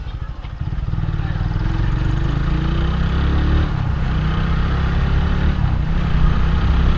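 A motorcycle engine runs steadily while riding, picked up by an Akaso Brave 4 Pro action camera, with low rumbling wind buffeting mixed in throughout and a voice faintly present beneath.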